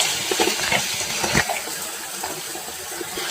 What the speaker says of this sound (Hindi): ओले पड़ रहे भाई खतरनाक। आप आवाज सुन सकते हो